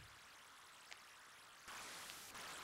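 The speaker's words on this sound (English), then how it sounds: "He did a nice job of making a stream sound" A steady stream of rushing water from the Atari 8-bit game Salmon Run, a soft continuous hiss of flowing water that gets a little louder partway through.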